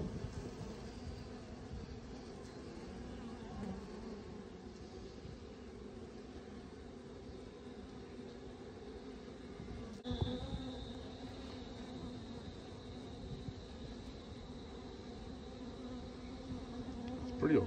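A steady, dense buzzing of many honeybees in a mini nuc hive fills the clip, close and continuous, with no voices.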